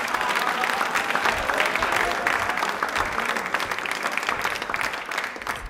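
Dense, steady audience applause fills the room for a participant in a quiz marking Birsa Munda's birth anniversary and Tribal Pride Day, loud and continuous with no talking.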